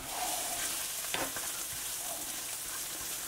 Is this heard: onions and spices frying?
yes